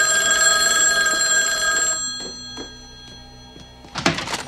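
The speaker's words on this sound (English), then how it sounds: "And then he gets a phone call." A telephone ringing in the film Pet Sematary, a loud sustained metallic bell that stops, followed by a few dull thunks and a brief clattering rustle.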